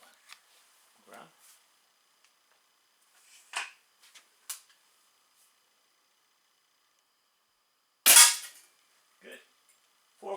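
Weihrauch HW 80 .22 (5.5 mm) spring air rifle firing, sharp isolated cracks spaced several seconds apart, one shot markedly louder near the end, with quiet pauses between.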